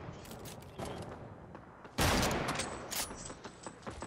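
Video game gunfire shooting down a tree: rapid crackling shots throughout, with a loud, dense burst midway that then trails off into scattered shots.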